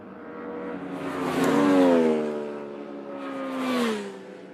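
Racing motorcycles from a Formula 2, Hooligans and American Thunder club race sweep past on the start straight, two loud engine passes rising and falling in pitch as they go by, with no talking.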